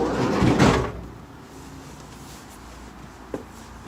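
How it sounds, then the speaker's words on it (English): A van's sliding side door is pulled shut with a single loud thud and rattle near the start, followed by quiet interior ambience and a faint click a few seconds later. "Oh, one thing I forgot to do is shut the door."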